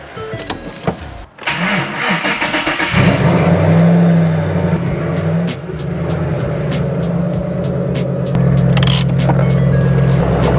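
A 2010 Ford Mustang GT V8 cranks over and fires, then settles into a loud, steady running rumble with a few throttle blips and revs rising and falling, close up and alone.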